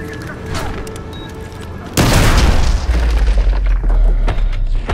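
Breach charge detonating in Call of Duty Modern Warfare 2 Remastered, a sudden loud boom that cuts through quiet radio chatter, followed by rumbling debris and scattered shots.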